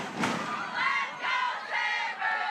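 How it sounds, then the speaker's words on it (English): A crowd stomping and roaring on wooden bleachers at a high school football game, a broad sustained rumble of voices and thuds swelling in waves. "the crowd is stomping on these bleachers"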